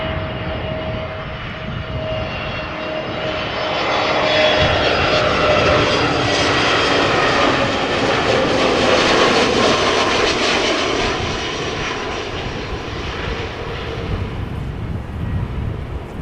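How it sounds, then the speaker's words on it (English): An EasyJet Airbus A320neo jet airliner at Amsterdam Schiphol, its engine roar swelling louder through the middle as it passes close, then easing, with a thin whining tone audible early on. "First up, this A320neo from EasyJet."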